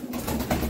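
Pigeons kept in a rooftop loft give a short, low, soft coo nearby, a brief throaty murmur.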